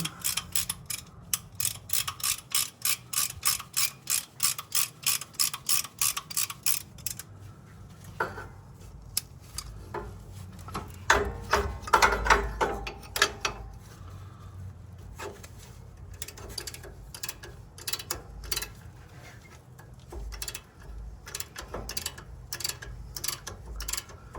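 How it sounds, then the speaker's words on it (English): A brake caliper piston being pushed back with a compression tool during a rear brake job, heard as a long run of fast, regular ratcheting clicks followed by scattered metallic clanks and taps, fairly close. "Get this piston compressed in this caliper."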